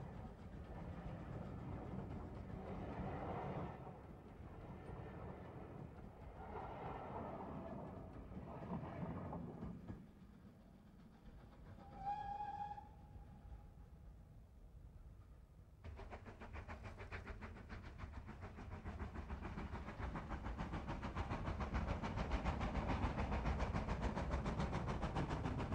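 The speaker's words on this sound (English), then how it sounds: "Crossing Maypool Viaduct, the train next encounters the 495-yard-long Greenway Tunnel, in which General Eisenhower's special train" A steam train runs on the Paignton and Dartmouth Railway near Maypool Viaduct and Greenway Tunnel, a steady low rumble and rolling clatter that dips briefly before a louder, denser roar builds toward the end.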